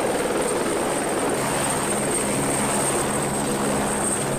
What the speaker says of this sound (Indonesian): yang ini helikopter guys